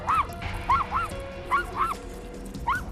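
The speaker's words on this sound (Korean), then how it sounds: "사람이 보이기만 해도 심하게 짖었는데요" A dog barks aggressively at people while out on a walk: five or six sharp, loud barks in an uneven rhythm over faint outdoor background noise.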